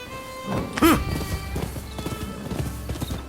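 Hooves of a horse galloping at speed in the Rise of the Ronin video game, with a quick rhythmic clatter throughout and a short whinny near the start.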